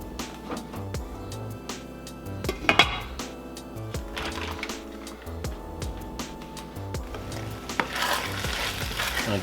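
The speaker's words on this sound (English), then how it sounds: "we're just gonna cook this for about 13-14 minutes" Birds Eye frozen chicken stir fry with sesame garlic sauce sizzles in a pan, steady frying crackle with repeated scraping and clinking stirs of a utensil against the pan, close and fairly loud.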